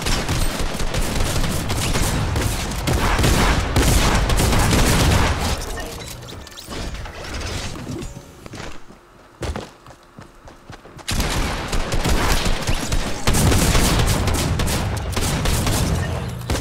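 Automatic sniper rifle fire in Fortnite at Tilted Towers: dense, loud volleys of shots and booms, with a quieter lull of scattered single shots midway before heavy firing resumes.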